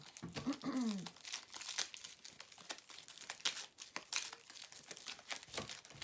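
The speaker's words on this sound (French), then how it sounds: "on va mettre des cartes" Tarot-style cards are shuffled and laid out for a reading, giving soft close papery rustles, crinkles and quick slaps of card against card in an irregular burst with no talking.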